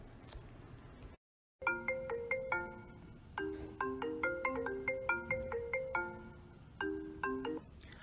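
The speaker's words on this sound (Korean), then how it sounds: "이번에는 핸드폰 전화벨이 울리고 있어요." A cheerful melodic phone ringtone plays a repeating tune of bright, plucked notes after a brief silence, steady and clear.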